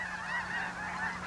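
Snow geese flying north over Tule Lake at spring dawn, a dense chorus of overlapping honks from a large flock, steady and moderately distant, with no talk.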